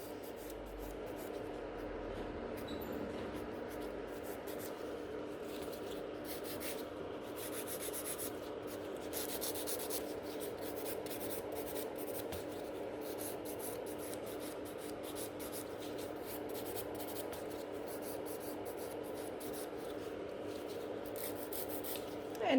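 A nail file rasps steadily over a gel nail extension during an infill, making a continuous close scratchy rubbing with small shifts in stroke that runs without pause and without talk for over twenty seconds.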